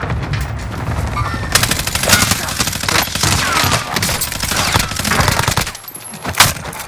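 Rapid bursts of video-game gunfire rattle almost continuously through a shooter match, with machine-gun fusillades and a sharp loud shot near the end, while a player's voice cuts in briefly.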